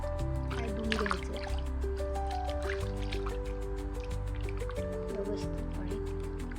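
Feet are rinsed in a basin of water after scrubbing during an at-home pedicure. Soft splashes and drips repeat over steady background music.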